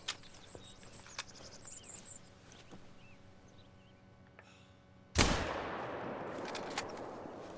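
A single sharp, loud rifle shot rings out in the hunting game theHunter: Call of the Wild. The crack comes after several seconds of quiet ambient outdoor sound with faint clicks, and a decaying echo trails after it.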